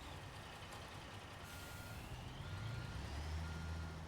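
Reversing beeps from a pallet truck carrying concrete bags in the Construction Simulator game, a steady repeating tone over a low engine rumble that grows slightly louder near the end, with no talking.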